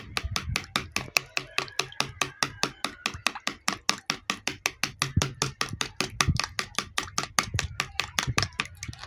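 Egg whites are beaten briskly in a bowl, giving a rapid, steady run of sharp whisking taps, several per second, close and loud throughout.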